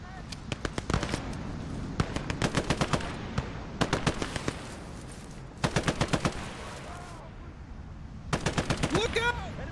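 Machine-gun fire in the World War II shooter Gates of Hell: several loud, rapid automatic bursts with pauses between them, ringing close by over a battlefield backdrop.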